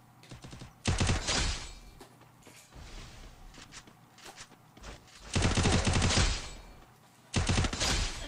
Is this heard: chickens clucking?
no